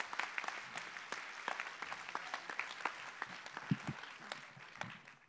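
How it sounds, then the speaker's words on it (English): Audience at a university public lecture gives a round of applause, sparse distinct claps from a modest crowd heard at a distance in a quiet room. "Give her a big round of applause."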